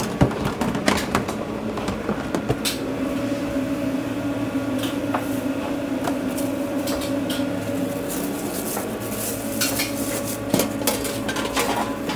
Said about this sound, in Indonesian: saya masak daging dan sayuran